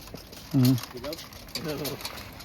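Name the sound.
pigeons cooing in a loft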